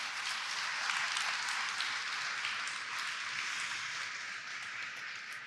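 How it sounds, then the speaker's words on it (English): A museum audience gives a panel a round of applause, a dense, continuous patter of many hands held at a steady level that eases slightly toward the end. "How about a round of applause for our panel?"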